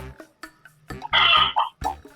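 A chicken clucks close to the microphone of a participant in an online class, a series of short clucks building to a louder, longer squawking call, then a few more clucks.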